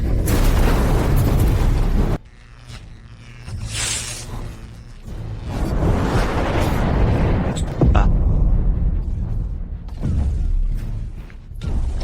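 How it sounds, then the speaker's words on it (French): Nanotech bomb going off in a sci-fi action scene, loud booming blasts and rumbling debris with mechanical creaks, surging in several heavy waves with brief quieter gaps. "La dernière recherche du docteur Qin, une bombe nanotechnologique"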